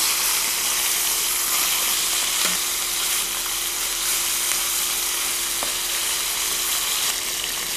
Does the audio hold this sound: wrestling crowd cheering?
no